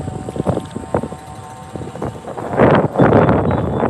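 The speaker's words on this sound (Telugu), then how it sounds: "గాలి ఎలా వేస్తుంది చూడండి చల్లగా వేస్తుంది గాలి" A cold wind blows ahead of dark rain clouds in Guntur, buffeting the microphone in loud, uneven gusts that build and grow rougher toward the end.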